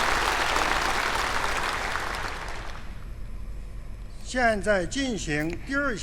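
Delegates at the opening session of China's top political advisory body applaud to approve the agenda; the full-room clapping fades out over a few seconds, and after a brief lull a voice begins speaking.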